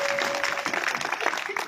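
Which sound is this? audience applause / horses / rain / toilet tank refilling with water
audience applause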